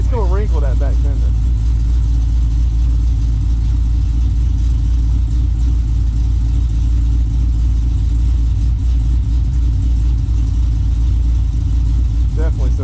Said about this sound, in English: Definitely still hear that exhaust leak.